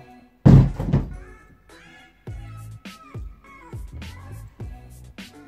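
A Vans shoe thrown down onto a hard floor, one heavy thud followed by a string of sharper knocks and bounces as it tumbles and settles, loud and close with no talking.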